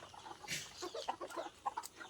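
Chickens and chicks let out of a wooden coop, giving a short burst of close, soft clucks and chirps over a quiet yard, with no talking.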